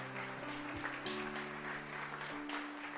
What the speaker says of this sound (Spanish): Denle un fuerte aplauso al Señor en esta tarde.